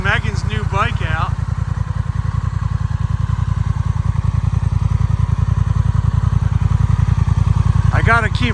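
A new motorcycle being ridden during break-in gives a steady, close, throbbing engine rumble with rapid even pulses throughout, and voices talk briefly at the start and end.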